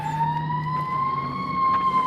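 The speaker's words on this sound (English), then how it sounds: "Do you think it was a fire truck?" A fire truck siren holds a steady high wail, heard from a moderate distance with a low rumble underneath.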